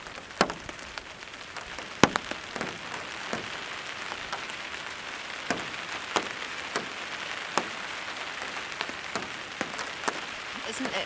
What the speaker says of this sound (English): Isn't that rain beautiful?